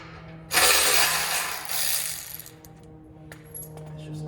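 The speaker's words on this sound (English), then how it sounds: "So I'm gonna go ahead and get my ratchet and bring those 3 bolts together." A ratchet drawing together three bolts on a Dissent Off-Road rear bumper base being installed on a Lexus LX470, heard as a loud, close burst of rapid clicking that tails off into quieter mechanical rattling.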